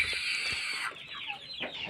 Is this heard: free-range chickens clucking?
yes